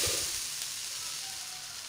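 Adai dosa sizzles on a pan right after flipping, a steady, fairly quiet hiss with no other sounds.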